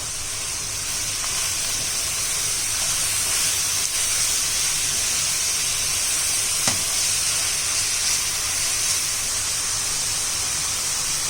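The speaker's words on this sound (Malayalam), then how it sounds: "അതിലേക്കൊരു 15 ചുവന്നുള്ളി അരിഞ്ഞതും ചേർത്ത് നന്നായി ഇളക്കി കൊടുക്കാം" About fifteen chopped shallots fry in masala in a pan for Kerala karimeen pollichathu, giving a steady, even sizzle throughout, broken by a single sharp clink of a utensil against the pan.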